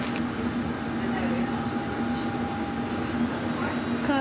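A train moving along the track, a steady loud rumble with a droning whine throughout, as heard from on board.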